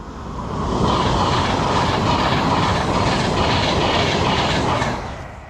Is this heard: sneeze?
no